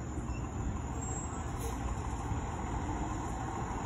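Seminole County Fire Department Engine 13, a spare fire engine, rumbles past at night on a road, its broad low engine and road roar holding steady and fairly loud for a few seconds without pause.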